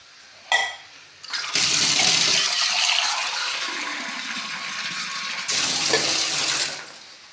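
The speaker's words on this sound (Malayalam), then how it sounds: "എന്നിട്ട് ഒരു കപ്പ് വെള്ളം കൂടി ഒഴിക്കുമ്പം" A cup of water is poured into a pot of curry, making a steady, loud gushing splash that runs for several seconds after a brief first splash, then stops abruptly.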